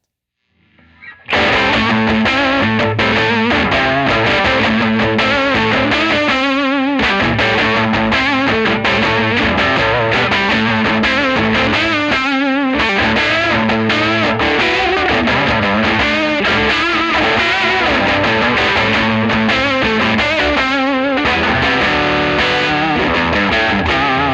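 Electric guitar played through a Supro Black Magick amp, a thick distorted tone with sustained chords and riffs filling the whole stretch, loud and continuous after a quiet start.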